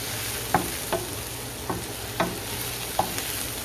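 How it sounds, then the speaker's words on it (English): Chicken and shrimp sizzle in a pan of garlic honey sauce while a utensil stirs them in five or six distinct scraping strokes over a constant frying hiss. "Stir that on up in there."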